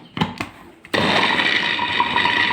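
After two quick knocks, a food processor starts up and runs loud and steady, mincing onion, parsley and other ingredients with a constant whirring chop.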